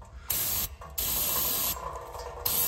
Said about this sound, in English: Now, I'm using brake fluid here. Brake cleaner, I mean.